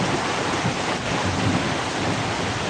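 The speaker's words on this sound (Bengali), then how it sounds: "অবশেষে চুয়াডাঙ্গায় বৃষ্টির দেখা মিলল দুর্দান্ত বৃষ্টি" Heavy rain pouring down at a market in Chuadanga, a dense, continuous roar of falling water filling the whole scene, loud and unbroken with no voices.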